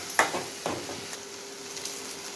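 A spoon scrapes through mushroom chukka with grated coconut in a hot pan, making a couple of soft stirring scrapes over a faint, steady sizzle.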